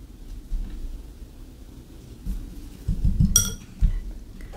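A watercolor paintbrush swished and tapped in a water jar, giving a short cluster of soft splashy knocks and a faint glassy clink against a quiet room.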